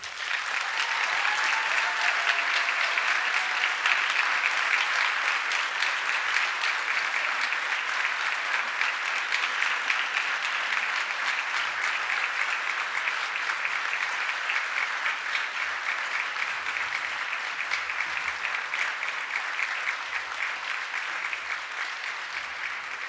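Sustained audience applause fills an awards ceremony hall, steady and dense clapping from a large crowd lasting throughout with no talk over it.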